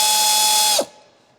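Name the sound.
pneumatic ratchet removing stabilizer link nut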